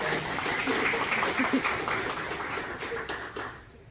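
A crowd applauds steadily, the clapping dense and sustained before tapering off toward the end.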